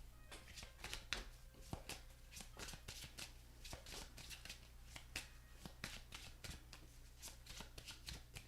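Tarot cards are shuffled and pulled, producing quiet, rapid riffling snaps and flicks in irregular bursts against a low background hum.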